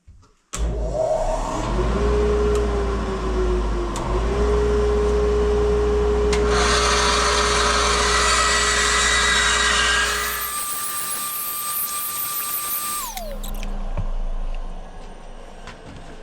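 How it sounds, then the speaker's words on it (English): A bandsaw cuts wood while a dust collector runs, with a humming motor drone rising in pitch, a louder gritty sawing rush in the middle, then a high whine that winds down as the machine stops. "let's try a little bit with the bandsaw here"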